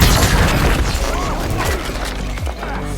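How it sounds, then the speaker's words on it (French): A booming gunshot effect in a film hits loud and close, followed by crashing, rumbling impacts that blend with speech underneath. "Jusqu'au moment où j'ai tiré."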